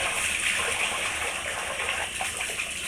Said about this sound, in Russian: Это вот она, теплая вода.